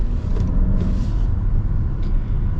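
A Toyota Crown Platinum hybrid with a 4-cylinder engine pulls away under acceleration, a steady low rumble of engine and road noise heard from inside the cabin, fairly loud and even throughout with no talking.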